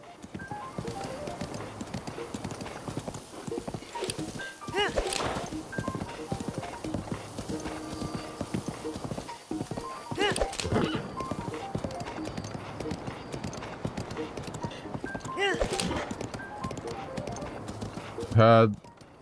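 Horse hooves clip-clop in a steady galloping rhythm in the video game Zelda: Breath of the Wild, moderately loud under a player talking, with periodic swells and a short burst near the end.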